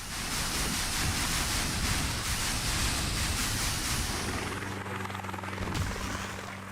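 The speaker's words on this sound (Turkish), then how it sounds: "helikopter mi oynuyor?" A helicopter in a video game roars steadily and loudly throughout as a dense rotor wash, thinning toward the end to a lower droning hum.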